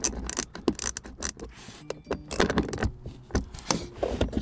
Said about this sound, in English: when you're screwing these in, you want to make sure you kind of do it crisscross pattern